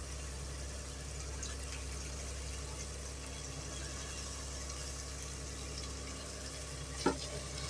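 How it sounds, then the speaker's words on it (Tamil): Masala and mint frying in oil in a pot for Hyderabadi mutton dum biryani, a faint, steady low sizzle with a single sharp clink near the end. "கொஞ்சம் வதங்கட்டும் மசாலா புதினா போட்டுக்கிறேன்"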